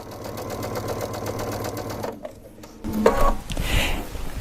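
A Baby Lock sewing machine fitted with an Ultra T foot stitches through thick fabric, a steady close mechanical whir that runs for about two seconds, drops briefly, then resumes with louder clicks and rattles.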